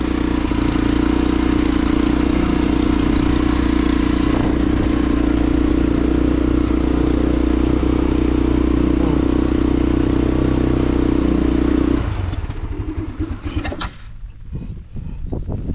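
A started engine runs loud and steady with a low droning hum for about twelve seconds, then changes abruptly to a rougher, clattering, fluctuating sound as it is put into gear.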